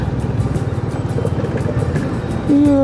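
Road traffic rumbles at busy Chakan chowk, a steady low drone of passing vehicles with a horn sounding near the end.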